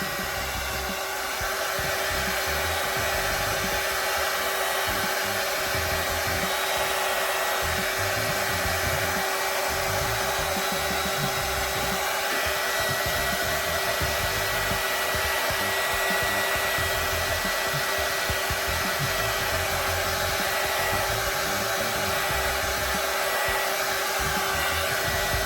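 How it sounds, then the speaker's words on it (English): A heat gun blows hot air to dry a Happy Easter craft, a constant loud roaring whoosh with a steady motor whine running unbroken throughout, close by and with no talking. "So I have a heat gun. You can use a heat gun or a hair dryer, but I'm gonna dry my Happy Easter"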